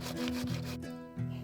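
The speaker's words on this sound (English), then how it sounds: "I then need to sand the areas that I'm going to paint, making sure anything that's peeling is removed" Sandpaper rubs back and forth over a painted wooden window frame with peeling paint, making steady, close, rhythmic scraping strokes alone.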